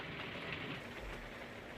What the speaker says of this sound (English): And it's really rainy